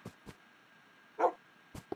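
Minecraft wolf barking in game: a few short, soft yips scattered across two seconds, with one brighter bark near the middle, faint and alone without talk.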